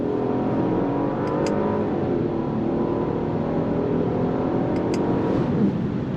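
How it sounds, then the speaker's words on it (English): A 2025 Genesis GV80 luxury midsize SUV slows in sport mode, its engine a steady, muffled drone from inside the cabin with a faint shift in tone as it downshifts; no one speaks. "Let's see what the downshifts feel like. So I'm gonna slow down a little bit here."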